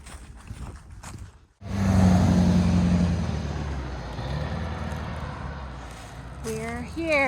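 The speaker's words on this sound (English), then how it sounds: "There's a car coming." Car approaching and passing on a rural road near a trailhead, a loud swelling rush of tire and engine noise that peaks then slowly fades; a voice speaks briefly near the end.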